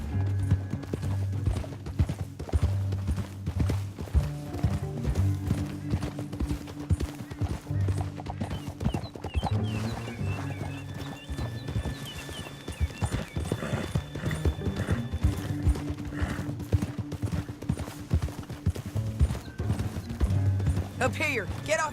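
Horse hooves clip-clop steadily along a trail in a Red Dead Redemption 2 ride, joined by an occasional whinny and creaking tack, with a low musical score and a talking voice.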